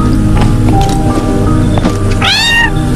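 A cat meows several times close up, ending in a drawn-out, wavering wail, with a steady background music bed underneath.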